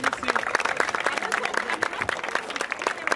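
Steady applause from a crowd at a freestyle rap battle final, many hands clapping continuously throughout, fairly close with no break.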